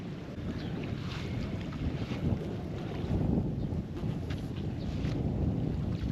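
Gusty wind buffeting the microphone at a lakeside fishing spot, with a low, constant rumble and faint water sloshing in the background.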